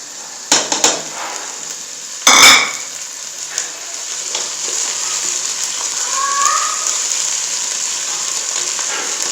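Garlic ginger paste sizzles with browned onions in a pan for a mutton brain dish, a steady hissing fry broken early by a few sharp clanks and a loud scrape, with no voices.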